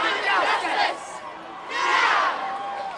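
More than 1,000 climate strike protesters, mostly school pupils, marching down Dunedin's George Street, a crowd chanting in two rhythmic surges with a short lull between, loud and fairly near.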